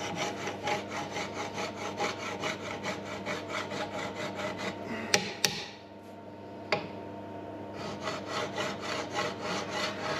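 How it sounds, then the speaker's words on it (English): Hand file stroking back and forth across a key seat on a flat belt pulley shaft, a steady rhythmic rasp of metal close by, with a brief pause, a few sharp clicks, then the strokes resuming. "The seat is then flattened by filing and then measured to check parallelism with the shaft."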